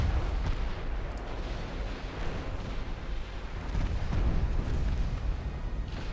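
7-inch naval guns firing in the Ultimate Admiral Dreadnoughts naval battle game, heard as a continuous loud rumble of heavy booms and low explosions that blend into a dense roar, with no talking.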